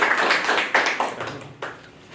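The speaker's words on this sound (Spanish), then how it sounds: "Aplausos para él." An indoor audience applauds a speaker, a dense patter of many hands that fades within about two seconds.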